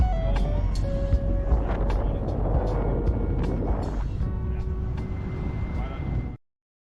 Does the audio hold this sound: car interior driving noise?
yes